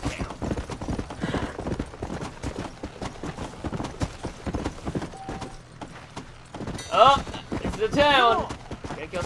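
Horse galloping in the Red Dead Redemption Undead Nightmare game, a steady rapid clip-clop of hooves running throughout, mixed under a voice and other game sounds.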